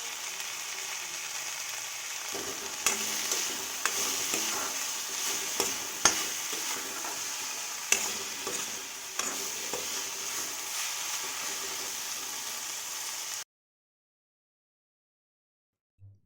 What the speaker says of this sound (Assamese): ইয়াতে মই নিমখ আৰু হালধি দি এইখিনি আকৌ ভাজিম।